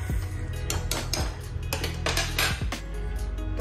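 A metal lid goes onto a pot of kadhi pakora with several clanging knocks and scrapes against the rim, close and fairly loud over a steady background hum.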